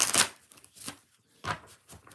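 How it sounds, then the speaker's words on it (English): Tarot cards being shuffled by hand, three brisk bursts of riffling and slapping separated by short pauses, close and fairly quiet with no talk. "2 more shuffles."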